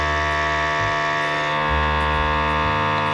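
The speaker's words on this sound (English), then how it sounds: "I'm just going to seal it. A little bit of vacuum on it." A vacuum sealer hums steadily with a low motor drone as it pulls air from a bag holding a London broil beef cut, the tone shifting slightly partway through, close and continuous with no talk.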